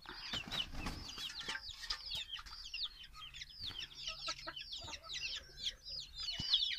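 Native chicken chicks in a coop peep continuously in high, rapid chirps, many birds overlapping close by, with occasional soft clucks and shuffling beneath.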